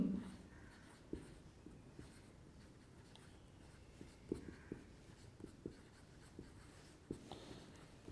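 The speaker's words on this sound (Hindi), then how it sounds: "मैं इसे लिख भी देता हूं" Pen writing out notes during a chemistry lecture on benzene, a steady run of soft scratching strokes with small taps, close and clear, with no voices over it.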